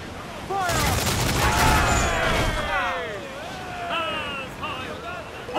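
A ship's cannon volley in Assassin's Creed IV Black Flag during a hard naval contract: a dense run of booming cannon blasts over rushing sea and wind, with whistling projectiles and shouted crew voices throughout.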